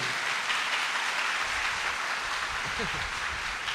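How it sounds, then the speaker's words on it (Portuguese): A church congregation gives loud applause during a sermon, a continuous bed of clapping heard somewhat distantly, with a brief low voice murmur partway through. "Dê uma salva de palmas bem forte para o Senhor"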